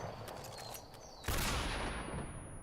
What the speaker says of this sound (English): I'm just gonna stun grenade him